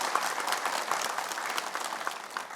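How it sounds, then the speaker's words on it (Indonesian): A studio audience claps during an early-morning Islamic religious TV show on MNC, producing dense, steady applause of moderate loudness that fills the whole moment with no speech over it. "Boleh tepuk tangan."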